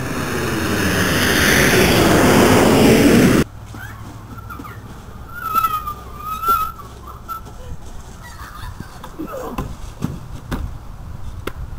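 An airplane taking off, a loud roaring jet engine rising steadily for a few seconds before cutting off abruptly, followed by quieter whistling, bird-like chirps and scattered small sounds.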